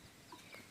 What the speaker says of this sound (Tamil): அங்கே ஒரு பறவை இருக்கு பாருங்க.